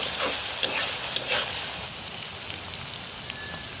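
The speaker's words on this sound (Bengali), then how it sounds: "পেঁয়াজগুলো লাল করে নিব।" Onions fry in a pan as they brown, a steady hissing sizzle with occasional stirring scrapes, close and moderately quiet.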